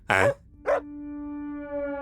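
A dog gives two short barks, then a long steady whine or howl-like tone follows, with no talk over it.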